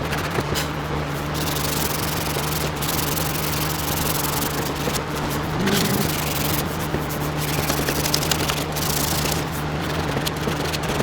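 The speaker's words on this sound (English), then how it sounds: "I'm just going to sand this foot with a little bit of 220" Fine 220-grit sandpaper rubs steadily over the foot of a vintage Stickley cherry wood dining table, a close, continuous abrasive hiss with a low background hum throughout.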